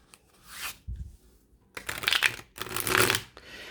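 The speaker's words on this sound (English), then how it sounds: "I riffle shuffle everything because I cannot do that overhand thing." Slightly slick tarot cards being riffle shuffled up close, a soft tap, then two crisp bursts of rapid fluttering as the halves interleave, with brief quiet between.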